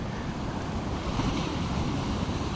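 Ocean waves surge and break against rocks at Scottburgh, a steady, loud wash of surf mixed with wind buffeting the microphone, with no voices.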